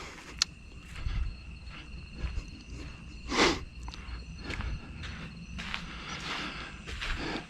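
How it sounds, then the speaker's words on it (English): Crickets chirp faintly at night in a quiet Walmart parking lot, a thin steady trill under soft scattered footstep-like rustles and a few brief knocks, distant and low in level. "All you can hear is some crickets chirping."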